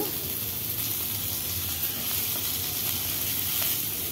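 Coriander seeds frying in a pan with the cooking for a goat head and legs mutton masala sambar, a steady close sizzle and hiss running without break and without speech.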